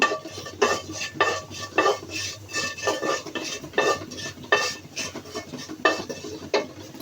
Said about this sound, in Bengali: সামান্য একটু জিরা দিব, জিরাটা ভেজে নিব।